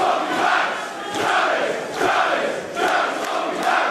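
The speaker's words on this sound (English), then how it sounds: "Listen to this crowd now" A wrestling crowd cheers and chants loudly in waves, swelling and dipping in a steady rhythm as the noise fills the venue.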